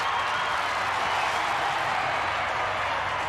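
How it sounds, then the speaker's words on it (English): Rugby league crowd at a 1991 Penrith versus Newcastle match cheering in one steady, dense wash of noise that holds evenly from start to finish, with no voice rising above it. "the crowd will have a little bit of joy, but only for about 10 seconds"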